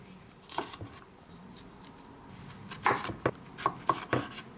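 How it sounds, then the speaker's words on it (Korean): A knife cuts a bell pepper into long strips on a cutting board, giving a few sparse chops at first and then a quicker burst of crisp, close taps. "길쭉하게 썰어줄게요"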